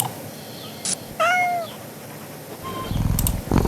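A cat in a video game gives a short meow, then a longer, clear rising-and-falling meow, followed by softer game sounds and a brief burst of louder noise at the end.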